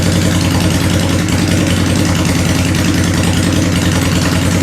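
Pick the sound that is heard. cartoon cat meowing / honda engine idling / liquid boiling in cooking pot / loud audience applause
honda engine idling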